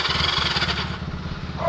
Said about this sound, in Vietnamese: Máy con này nổ rất là êm luôn.